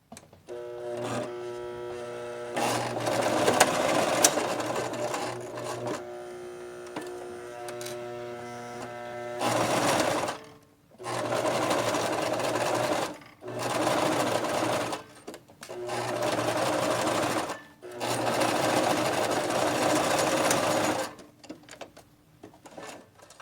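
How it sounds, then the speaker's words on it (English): Sewing machine stitching two pieces of fabric into a seam, running in several steady bursts with brief pauses between, close and fairly quiet with a faint hum underneath. "We've sewn our two pieces of fabric together, and now we have our first seam."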